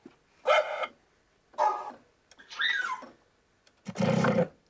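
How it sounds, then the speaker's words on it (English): Sampled dog barks and roars played from a keyboard sound out as four separate, loud bursts spaced about a second apart, the last one deeper and fuller, with no voices over them. "So instead of notes on a keyboard, you now have dogs on the keyboard."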